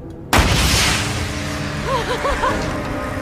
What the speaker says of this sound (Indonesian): Mereka pun akan menembakkan pistol suar itu sebagai tanda pertolongan.